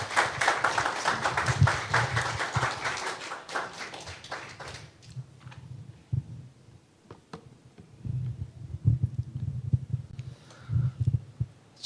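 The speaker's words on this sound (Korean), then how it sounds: "하나님께 박수로 영광 돌리며 선교사님 맞이하겠습니다." Church congregation clapping to welcome a visiting missionary: a burst of brisk applause for several seconds, then dying away into scattered taps and low thuds in a reverberant hall.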